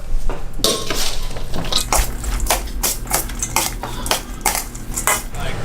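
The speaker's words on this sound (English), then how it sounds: "Next we stir." Dumpling filling with cheese sauce, red peppers and scallions stirred in a metal bowl, a steady run of close, loud utensil scrapes and clinks against the pan.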